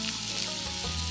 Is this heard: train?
no